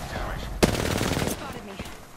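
Gunfire in the video game Apex Legends, one loud sharp shot followed by a few fainter bursts amid game noise, with a player's voice talking over it.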